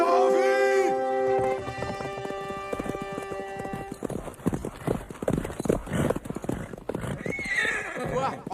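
A horse whinnies loudly at the start, then hooves clip-clop in a busy, uneven rhythm with shouting voices in a rough medieval battle-camp setting.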